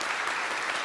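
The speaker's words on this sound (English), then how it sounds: "So let's give them some applause here." Audience applause fills a community talk on aesthetics, a brief, steady burst of many hands clapping at moderate distance with no voices over it.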